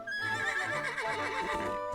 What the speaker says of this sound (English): I didn't realize that the carrot is how you summon your own horse